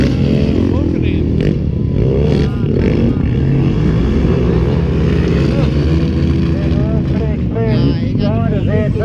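Racing lawn mowers fitted with 250cc to 400cc motorbike engines roar past at Rapid Bay, a loud continuous buzzing and revving that rises and falls in pitch as they approach, while a commentator talks over the noise.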